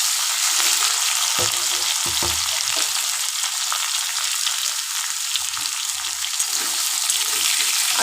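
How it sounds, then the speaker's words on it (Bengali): Potatoes for a pumpkin chhokka sizzle loudly and continuously in hot oil, with a few scraping stirs near the start; the frying is close and steady, and nobody speaks. "আলুটা একটু ভাজা হোক"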